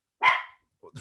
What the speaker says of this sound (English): Apologies for my dogs.